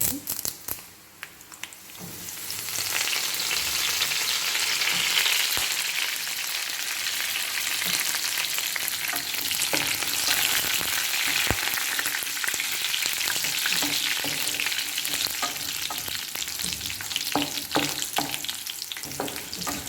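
Dried red chillies and curry leaves fry in hot oil, a dense crackling sizzle that swells after a quiet start, with scattered stirring clicks and crinkles.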